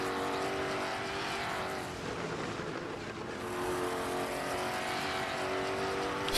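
Ford GT and Porsche GT race cars at Silverstone in Assetto Corsa, a steady loud engine roar that dips briefly midway and then builds again, with no talk over it.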